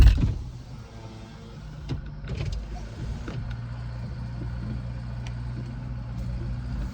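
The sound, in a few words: car power window winding down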